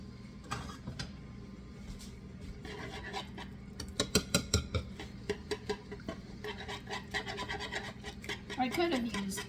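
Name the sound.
mixing bananas and eggs in a bowl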